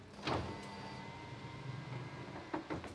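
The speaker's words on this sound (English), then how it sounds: "Helps just to roll down your back windows." Frameless rear electric windows on a Subaru STI whir downward, a faint motor hum with soft clicks as they start and stop, close by in a quiet car.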